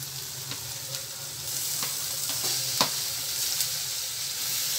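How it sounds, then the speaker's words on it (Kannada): Chopped tomatoes go into onions frying in oil for tomato gojju, giving a steady close sizzle with a few sharp stirring knocks against the pan, and no talking. "ಇವಾಗ ನಾವು ಟೊಮೆಟೊ ಹಾಕ್ಕೊಳ್ಳೋಣ."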